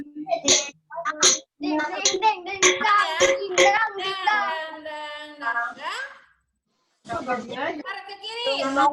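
Young children from grade one clap a rhythmic spirit clap in quick patterned bursts, mixed with children's chanting voices and talk.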